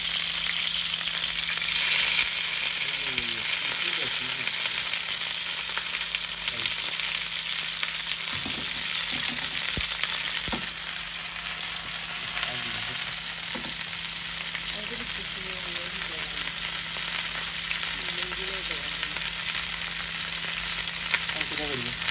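Hilsa fish wrapped in gourd leaves frying in hot oil, a steady broadband sizzle with crackles and stirring scrapes throughout, close and loud, with faint voices in the background.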